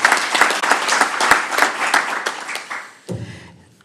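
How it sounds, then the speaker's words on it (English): An audience at a Houston-Galveston area roundtable on reviving main streets breaks into steady applause, dense clapping that fills the room for about three seconds before trailing off. "Let's get a round of applause for Friendswood and everybody here."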